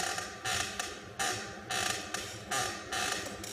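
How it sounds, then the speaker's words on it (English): Something squeaks and creaks in a regular rhythm of about seven short, close bursts over a faint background, with no talk. "did that squeak?"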